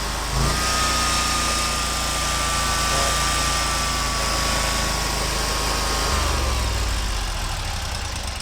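A Bob Cat 61-inch ZRT zero-turn mower engine holds a high idle with a steady, loud, buzzing drone and a faint whine. The pitch drops slightly near the end, and no voices are heard.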